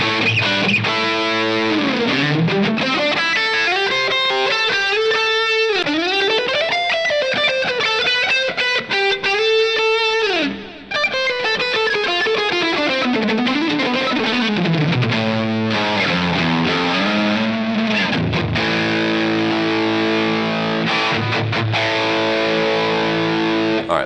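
Electric guitar, a Bootlegger Absinthe with the neck pickup coil-split, played through distortion, a bright single-coil-like lead with bends and fast runs, sustained notes and a brief gap mid-phrase.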